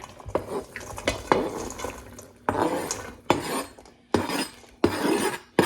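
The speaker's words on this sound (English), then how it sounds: "we're just going to grab a stainless steel bowl, and we're just going to put our vegetables in there" Chopped vegetables are scraped and dropped into a stainless steel bowl, giving a series of loud metallic clatters and scraping rasps in separate bursts with short pauses between them.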